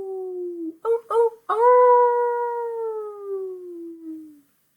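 A human voice imitates a wolf howl, starting with a few short yips and breaking into one long, sustained, slowly falling howl, loud and close with no other sounds.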